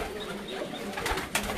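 Breeder pigeons in Sialkot cooing softly nearby, low throaty coos over a busy background, with a brief flutter or rustle near the end.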